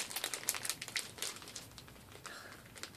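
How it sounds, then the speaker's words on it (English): Plastic bags of candle wax melts crinkling up close, a busy, continuous rustle that is dense and loud at first, then thins and softens toward the end. "don't even like the sound of my own bags crinkling"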